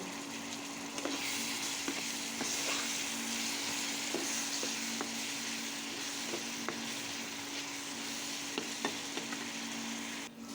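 A steady, close sizzle of spices frying in hot oil for jackfruit biryani, with faint occasional clicks from stirring throughout.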